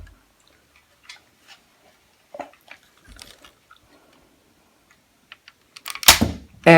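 A modded Nerf blaster loaded with a Boomco dart: scattered faint mechanical clicks and handling ticks, then a sharp, loud firing snap near the end, no talking.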